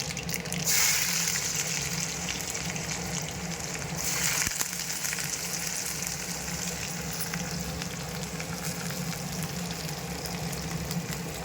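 Small onions dropped into hot oil with popped mustard seeds fry in a steady, fairly loud sizzle that runs the whole way through, with a brief stirring scrape near the start and again around the middle.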